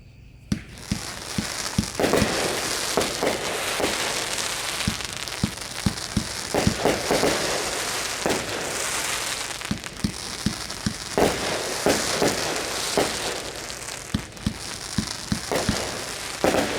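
A Mega Banger 'Plastered' 1.4G consumer firework cake fires its 16 shots as sharp crackling reports in an irregular, fairly quick series over a constant crackle and hiss.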